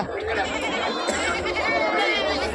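Goats and sheep bleat amid a busy livestock market, wavering calls overlapping with people talking and crowd chatter throughout.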